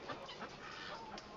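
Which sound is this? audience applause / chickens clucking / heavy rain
chickens clucking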